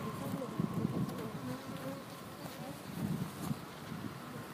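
Honeybees of a calm breed buzz around a rooftop hive, a low swarming drone of many insects heard close and fairly faint, with light wind noise over it.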